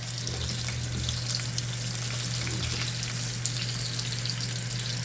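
Steady, close crackling sizzle of food frying in hot oil, continuous throughout with a faint low hum underneath.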